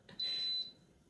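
A single high, steady electronic beep from an air fryer in a home kitchen, about half a second long and fairly faint, with no talking.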